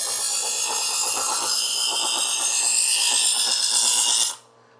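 A kitchen knife is drawn repeatedly through a handheld sharpener, giving a close, continuous rasping scrape with a slight rhythmic grind that stops abruptly near the end.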